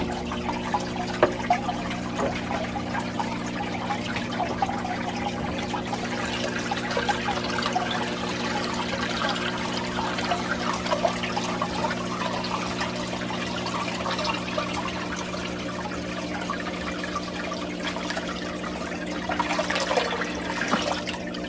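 Water is poured from a bucket to fill a fish tank, a continuous splashing and trickling pour over a steady low mechanical hum, with no speech.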